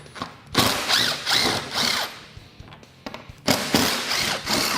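Screws being removed from the hood of a Polaris RZR Pro XP with a power driver, short whirring bursts separated by pauses and small mechanical clicks.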